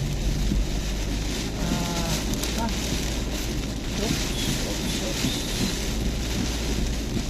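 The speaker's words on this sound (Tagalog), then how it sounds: "may malakas talaga ang ulan. Malakas ang hangin din." Heavy rain and strong wind during a storm, a dense, loud roar of rainfall and gusts buffeting the microphone continuously, with a person talking over it.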